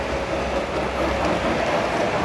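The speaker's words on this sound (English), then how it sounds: "now a 280 Consolidation with 3 boxcars coming out" A steady, continuous rumbling of a model 2-8-0 Consolidation steam locomotive pulling three boxcars along the track at a train show, even and moderately loud throughout, with no voices.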